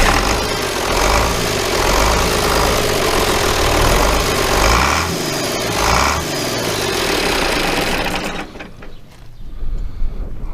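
An International Harvester 1086 tractor engine, a burnt machine left sitting for years, running loud and close with a rough, steady diesel idle for about eight seconds before cutting off abruptly, leaving a brief quiet tail with small clicks.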